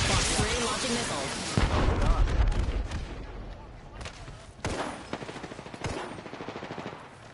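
Rapid bursts of automatic gunfire and launched missiles from the Apex Legends battle royale game, loud and dense with booming impacts, running through the whole stretch with overlapping bursts.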